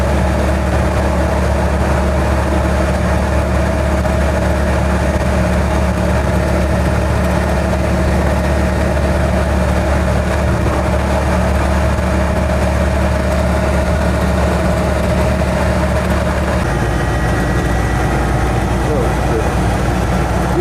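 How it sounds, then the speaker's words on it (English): An Invacar microcar drives on the motorway, its small engine a loud, steady drone and rumble throughout, shifting lower in tone near the end. "motorway driving isn't the most fun in an Invacar"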